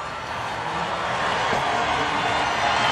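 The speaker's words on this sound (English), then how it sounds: "The cheers from the crowd you can hear" A crowd cheers at the 2023 Miami Grand Prix qualifying in Formula 1, a broad sustained roar from a distance that swells slightly and holds without pause.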